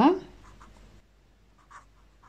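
Handwriting during a primary-school geometry lesson on parallelograms: a louder scrape at the start, then several short, faint scratchy strokes in quiet room tone.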